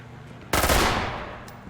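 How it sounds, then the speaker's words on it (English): One abrupt burst of close gunfire from an SMG and a 12-gauge shotgun in the tactical shooter Door Kickers 2: a loud crack that fades over about a second. "that man just got SMG'd and 12 gauged at the same time"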